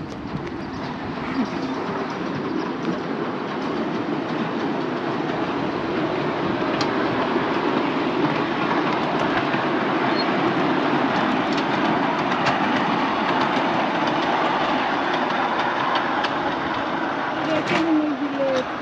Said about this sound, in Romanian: Acum o să filmăm trenulețul.